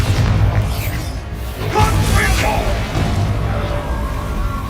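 A Bombarda blast spell goes off in the Hogwarts Legacy video game, a loud booming burst over dense rumbling combat noise, with a second surge around the middle and a sustained low roar throughout.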